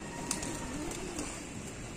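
Pigeons cooing softly in a rooftop loft, a faint steady murmur of low calls with one brief sharper sound near the start, quiet and continuous throughout.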